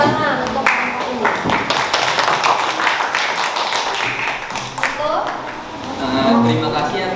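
A classroom claps for a student group in scattered, uneven hand claps, with voices talking over and among the clapping toward the end.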